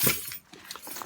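A bunch of camper keys with a bike key on the ring jingles and clinks briefly, a quick bright rattle up close followed by a few lighter taps.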